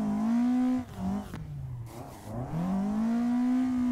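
A racing car engine revs high and steady in a touge drift video game, dipping and rising through a gear change or slide, loud and close with no talk.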